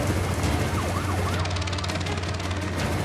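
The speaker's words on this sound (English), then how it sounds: "There's the siren, there's the siren." A wailing siren rises and falls steadily over a constant low engine rumble on the savanna during a giraffe relocation, fairly loud and sustained throughout.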